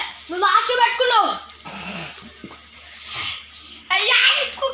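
A dog whimpers and whines in short bursts among children's excited voices at close range, and the talking often drowns out the dog.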